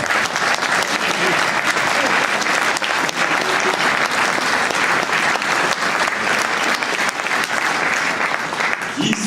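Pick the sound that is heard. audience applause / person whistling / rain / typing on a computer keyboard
audience applause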